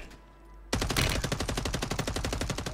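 Rapid automatic gunfire in Call of Duty Warzone, a sustained burst of evenly spaced loud shots starting abruptly after a quiet moment and running to the end.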